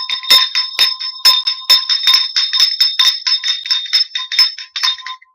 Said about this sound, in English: turn down your listening devices because I'm about to ring the bell